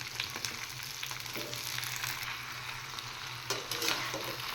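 Sliced okra and onion frying together in a pan, sizzling steadily and close up with a few stirring scrapes, no voices.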